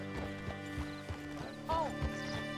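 A horse in Red Dead Redemption 2 clip-clops in a steady walking rhythm and lets out a short whinny near the end, faint and fairly close, with low musical tones underneath.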